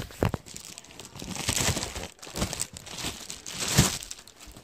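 Scissors cut through hard plastic packaging close up, giving repeated crinkling and crunching snips and tearing with small sharp clicks, and no talking.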